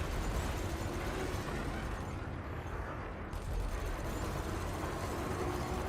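Multi-cannon fire in Elite Dangerous space combat forms a dense, continuous loud roar of rapid shots, easing briefly midway before resuming at full intensity.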